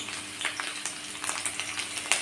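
Garlic and cumin sizzle steadily in hot oil, with a few soft stirring scrapes and no talking.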